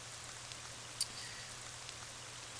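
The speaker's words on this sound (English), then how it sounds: "it started raining in the room" Rain falling indoors inside a room in the horror game Ib, a soft steady hiss of drops, faint and continuous, with one brief sharp tick near the middle and a low hum beneath.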